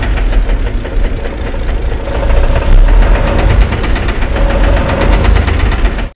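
A car engine with knocking caused by low-octane fuel that is not fully burning: a steady, loud idling rumble carrying a rapid, rhythmic metallic ticking throughout, with no voices.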